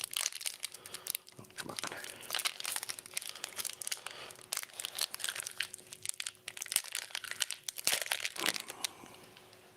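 Trading card pack wrappers are crinkled and torn open close up in bursts of crackling and ripping, with short pauses between them. A person speaks briefly.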